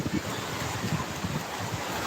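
Sea waves wash onto a beach where people are swimming, a continuous rushing surf mixed with heavy wind buffeting the microphone, loud and unbroken.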